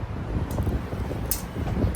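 Wind blowing into a Ngong Ping 360 cable car cabin in Hong Kong, a steady close rushing and buffeting noise with no voices.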